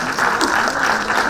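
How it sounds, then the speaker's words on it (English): Audience at a fintech conclave quiz session clapping in a steady, dense round of applause that holds at even loudness throughout, with a faint voice briefly underneath. "Please give him a round of applause"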